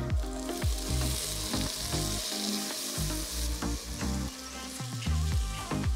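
Ginger garlic paste frying with browned onions in a pressure cooker pot for mutton curry, loud continuous sizzling with repeated scraping stir strokes, close up and without talk.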